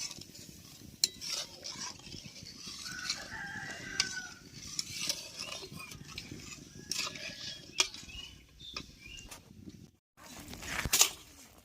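A sandesh milk and sugar mixture is stirred in a pan on the stove, giving soft continuous scraping and occasional sharp clinks of the spoon against the pan.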